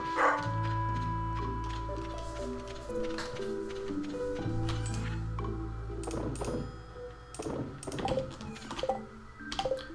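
A dog barks repeatedly in the farming game Stardew Valley, the yaps and small whimpers sounding over cheerful background music and ticking game effects, with no talking.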